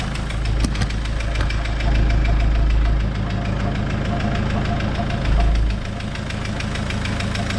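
Car engine running after an engine swap: a steady idle with a rhythmic low thrum and knocking pulses, close by, with a couple of brief swells in the low rumble.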